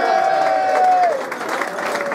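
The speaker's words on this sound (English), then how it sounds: "I think a big round of applause just for the players" An auction crowd applauds the players at the Lee Brilleaux memorial auction. The applause is a steady, loud wash of clapping that lasts the whole clip, with a sustained tone sliding through it.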